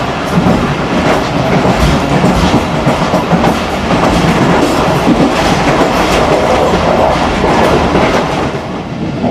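A Pakistan Railways express train running, heard from inside the guard cabin: loud, continuous rumble and rattling with rhythmic clickety-clack of wheels over rail joints, steady throughout.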